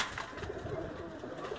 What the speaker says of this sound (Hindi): ये चौधरी शमरेज साहब के घर के ब्रीडर जो कबूतर हैं